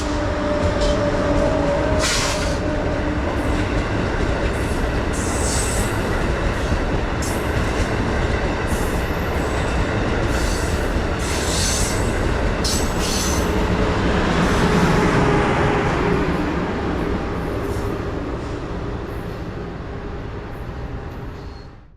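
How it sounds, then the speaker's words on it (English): Amtrak Acela 2259 runs westbound on track 2, a steady loud rumble of wheels and rail noise sustained throughout, with faint clickety-clack and brief high squeals as it passes close by. "Running not too far behind 135 was Amtrak Acela 2259 westbound in nice lighting on track 2."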